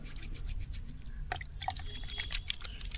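Wet hands lathering a bar of homemade neem, tulsi and aloe vera herbal soap with water, giving soft, close squelching and dripping sounds that run steadily throughout without talk.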